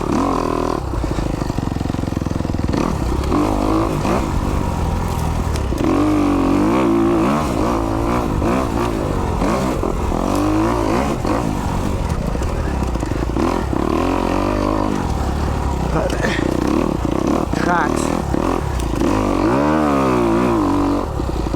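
A 2021 Kawasaki KX250X dirt bike engine while riding on a straight track, loud and close, revving up and down continuously with throttle surges and shifts, and a rattly clatter throughout.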